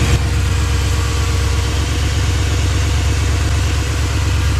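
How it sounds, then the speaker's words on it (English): A car engine turns over and settles into a loud, rough idle with an uneven low throb, close by and steady, with no talking. "it starts up good. A little rough on the idle."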